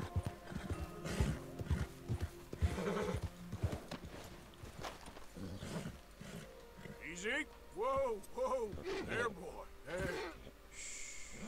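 A horse in the Red Dead Redemption video game lets out a wavering, descending whinny after a stretch of hoofbeats and a person talking, the neigh fairly loud and close near the end.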